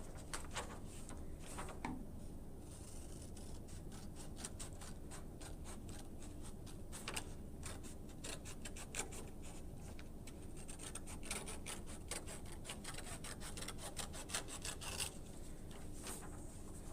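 Scissors cut out a paper triangle, a quiet continuous run of small crisp snips and paper rustles close by, with no talking.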